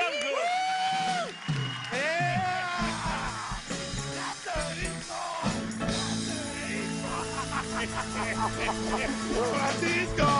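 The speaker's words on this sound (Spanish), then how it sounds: "Joel Villagrán, un aplauso para él." A lively TV studio audience claps and cheers with whoops and shouts, mixed with loud voices and background music, sustained throughout.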